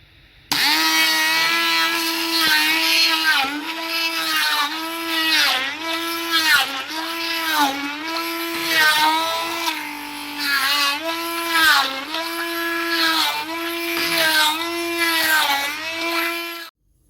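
A kitchen blender whirs loudly in repeated bursts, its motor pitch dipping and rising as it chops through strawberries, with brief pauses between pulses.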